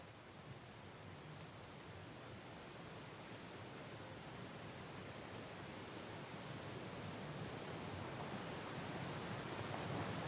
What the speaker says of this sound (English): It's a waterfall and it's loud.